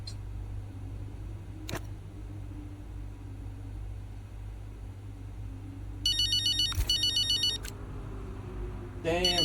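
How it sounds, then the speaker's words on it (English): A phone ringtone chirps in repeated electronic bursts during a racing drama cutscene in the F1 25 video game, heard over a steady low engine-like hum with a brief click before it. "Damn phone."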